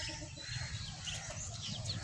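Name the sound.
native deshi chickens clucking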